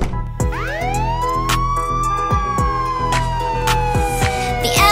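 Cartoon ambulance siren wailing loud and close, a rising then slowly falling electronic tone over a steady musical backing with regular beats, no talking.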